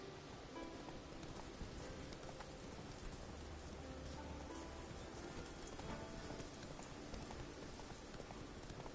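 Roach the horse's hooves clip-clopping in a PS4 video game, a faint, steady patter of hoofbeats under a dense wash of in-game ambience and rain-like noise, with no talking.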